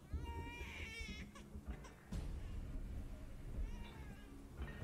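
An infant crying in the action game Where Winds Meet, thin wavering wails that rise and break off, repeating several times over a low rumbling game background at moderate distance.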